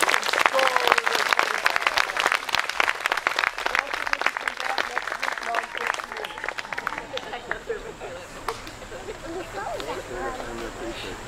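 A church congregation claps during a Rally Sunday service, dense applause for several seconds that thins into scattered claps and murmuring voices near the end.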